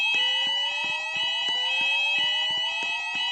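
A mall fire alarm blares nonstop, a loud electronic tone pulsing in a fast steady rhythm with sweeping pitch, filling the space without pause.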